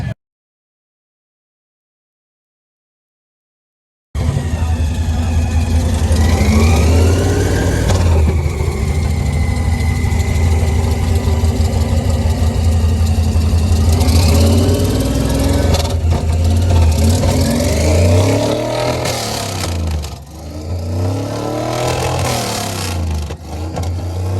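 The Mad Max Interceptor's car engine idles with a steady low rumble at a car show, then revs up in several rising and falling bursts near the end, loud and close.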